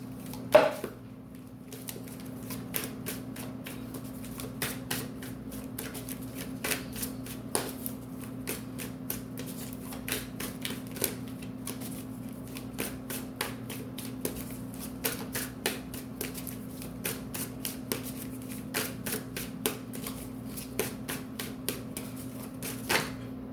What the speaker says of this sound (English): So let's pull some tarot.